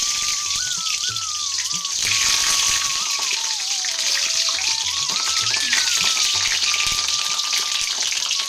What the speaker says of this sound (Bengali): এই যে ডিমগুলো ভাজতে আমি বসিয়ে দিয়েছি